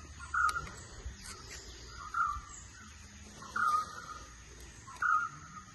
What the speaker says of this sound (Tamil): பறவைங்க